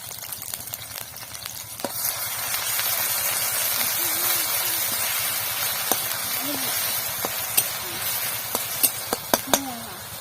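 Ground onion, chilli and ginger-garlic paste frying in hot oil for veg momo filling give a steady close sizzle and hiss, broken by a few sharp clicks of a spoon, with a voice speaking at times.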